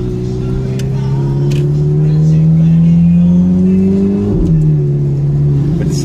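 Ferrari sports car engine droning close and loud at low city speed, its tone rising steadily in pitch as it revs up, then dropping abruptly as the gear shifts, with a steady hum continuing afterward.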